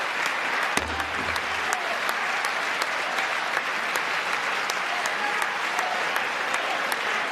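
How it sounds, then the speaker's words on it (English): Steady applause from a crowd, dense and even throughout, with a brief low thump near the start. "I'm clapping for him."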